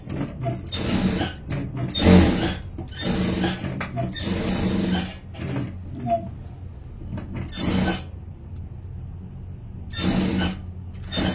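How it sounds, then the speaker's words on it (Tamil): Sewing machine running in bursts while stitching along the edge of a blouse, with several short loud runs separated by pauses, close and clear. "இப்போ இந்த ஓரமாக தையல் ஒன்று போட்டுக்கிறேன்"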